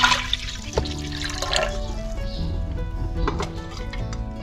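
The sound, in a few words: water poured into pot for chicken feet yakhni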